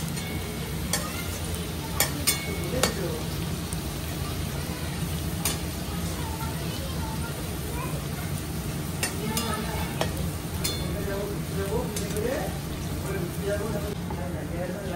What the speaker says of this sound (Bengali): বেগুনগুলোও ভেজে নেব।